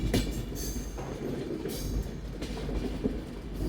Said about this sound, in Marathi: तर गाडी आपली आली साईडला